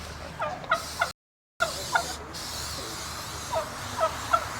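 Several turkeys gobble in short bursts, some close and some farther off, with a brief dropout of silence partway through.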